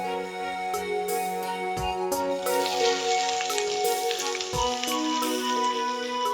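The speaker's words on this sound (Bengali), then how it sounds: "তেল গরম হয়ে গেছে পেঁয়াজ কুচি ছেড়ে দিচ্ছি" Chopped onions fry in hot oil for a spicy dish, a close, continuous crackling sizzle with sharp spatters scattered throughout and a few louder pops.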